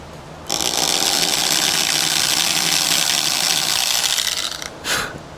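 A power drill drives a screw into the wooden body of a black Motso guitar during a setup and repair, giving a steady, close grinding whir for about four seconds before it cuts off, then one short final burst.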